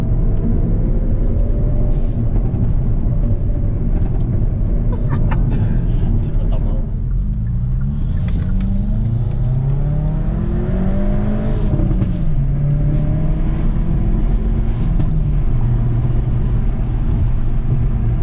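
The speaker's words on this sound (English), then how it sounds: "So the intake noise is insane." Hyundai i30 N with a Forge cold air intake, a loud close engine and intake roar that rises and falls with revving and accelerating, with people talking over it.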